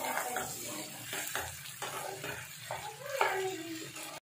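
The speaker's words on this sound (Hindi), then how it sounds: "अभी पूरा मसाले को ऑयल छोड़ने तक पका लेना है।" Soaked masala paste cooks in oil with a soft, continuous frying hiss, broken by repeated stirring scrapes and clacks of a utensil against the pan.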